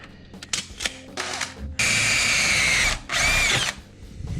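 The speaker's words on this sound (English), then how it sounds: "now we've got all the holes drilled" A power drill bores holes into a kitchen cabinet in two loud bursts of a second or more each, after lighter handling and positioning clatter.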